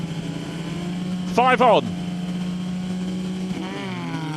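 Formula Ford 1600 race cars revving together on the grid at the start of a race at Knockhill, a steady engine drone with a brief loud rising burst partway through, under a commentator's voice.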